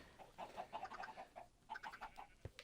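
Minecraft chickens, roughly twenty of them kept in an egg farm, cluck softly in a steady, overlapping patter of short calls, with a brief sharp click near the end.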